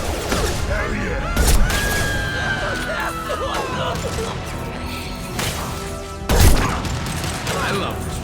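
Rifle gunfire in the video game Mass Effect 2, with loud sharp shots and mechanical clatter in bursts amid combat effects, with voices talking under the action.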